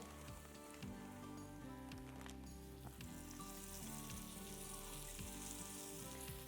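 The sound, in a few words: flour-coated beef stew meat searing in hot oil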